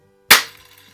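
A single shot from a 1933 Daisy No. 195 Model 33 Buzz Barton Special BB gun, one sharp crack with a short fading tail, heard alone in a quiet setting.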